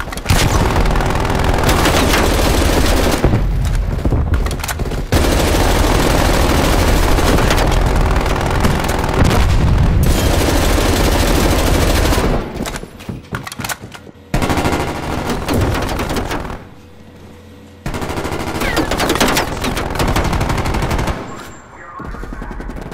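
A sentry turret in Call of Duty: Black Ops Cold War fires sustained, loud machine-gun bursts that are dense and continuous with a few short pauses, over heavy battle noise.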